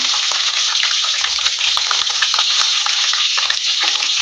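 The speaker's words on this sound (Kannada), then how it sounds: "ಒಂದು ಈರುಳ್ಳಿಯನ್ನು ಚೆನ್ನಾಗಿ ಕಟ್ ಮಾಡಿ ಇಟ್ಕೊಂಡಿದ್ದೀನಿ ಅದನ್ನು ಕೂಡ ಹಾಕಿ ಚೆನ್ನಾಗಿ ಫ್ರೈ ಮಾಡ್ಕೊಳ್ಳೋಣ" Chopped onion frying in hot oil with mustard seeds for a mackerel curry, a close, loud, continuous sizzle with small crackles and light stirring scrapes.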